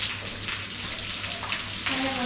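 Water from a hose pipe sprays onto new building construction with a steady, faint hiss and splash throughout, with possible faint voices in the background.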